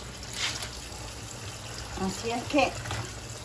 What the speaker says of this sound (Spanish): Miren el agua como sale.